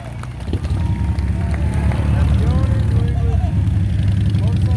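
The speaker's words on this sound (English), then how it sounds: "Shifted to third gear up the hill." A Harley-Davidson Panhead motorcycle climbs a hill in third gear at a hill-climb event, its engine a loud, steady low rumble that fills the whole stretch, with faint shouts from the crowd around it.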